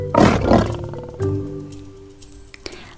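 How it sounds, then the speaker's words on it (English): A lion roars in two loud, deep bursts, followed by a lower rumbling growl that fades over the next couple of seconds, with a faint click near the end. "I hear a lion roaring in my ear."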